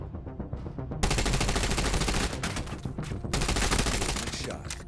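Rapid gunfire in the mobile shooter game Tom Clancy's The Division Resurgence: after a brief quieter lead-in, dense sustained bursts of shots rattle on loudly and almost without pause for several seconds.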